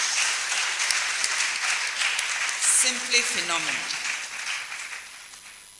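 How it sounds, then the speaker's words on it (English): Steady applause from an audience at an inaugural lecture fills the whole stretch, with a person speaking briefly over the clapping partway through. "Please, another round of applause."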